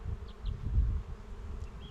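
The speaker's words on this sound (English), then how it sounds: "just took out a wasp that came in there" Wasp buzzing inside a beehive among bees, a low, continuous, close droning hum with slight swells and no voices.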